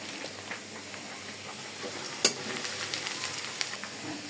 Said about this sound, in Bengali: নোনা ইলিশ আমি পেঁয়াজ দিয়ে একদম শুকনা করে ভাজবো।